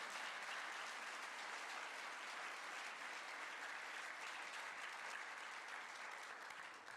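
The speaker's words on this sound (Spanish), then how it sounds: "Yo le daría un aplauso al Señor por eso." A church congregation applauds during a sermon, a dense, steady wash of clapping hands that fills the space evenly for several seconds before easing slightly at the end, with no voices standing out.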